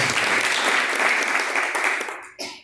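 A church congregation claps steadily and loudly together for over two seconds, then the applause stops briefly and resumes with a short final burst before fading.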